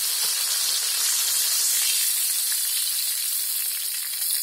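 Prawns fry in hot oil with a dense, steady sizzle and crackle that runs unbroken and close, with no voices over it.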